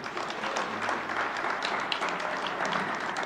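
Audience clapping for presenters at a symposium, a soft, steady wash of many hands from a moderately distant crowd, continuous throughout with no break.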